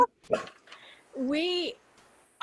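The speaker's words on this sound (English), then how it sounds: "Sorry, the dog." A dog gives a short bark and a drawn-out whining yelp nearby, brief and fairly loud, breaking into a quiet indoor pause in a conversation.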